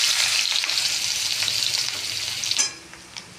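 Chopped onion frying in oil in a pan for a jackfruit curry, a bright continuous sizzle up close that fades away abruptly near the end after a final stir.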